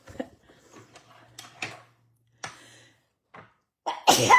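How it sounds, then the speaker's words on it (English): A single sneeze bursts out at the end after a few quiet breaths and small movement noises, close and sudden. "I'm getting ready to sneeze."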